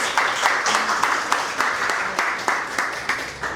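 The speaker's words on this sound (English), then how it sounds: "Let's give Brianna a round of applause." An audience claps after a startup founder's presentation at a business event in Japan, in a rhythmic, evenly pulsing pattern of close claps that lasts a few seconds.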